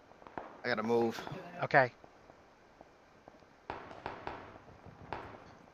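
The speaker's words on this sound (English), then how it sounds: "Oh, I hear grenades." Grenade explosions in PUBG: a few muffled, distant bursts popping in the background, with a person talking over them.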